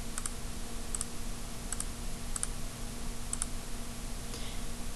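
Keys pressed on a graphing calculator, about half a dozen soft, spaced clicks at a slow uneven pace over a steady background hum.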